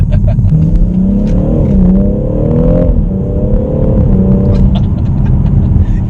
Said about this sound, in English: It wheel spins a lot because it's proper greasy.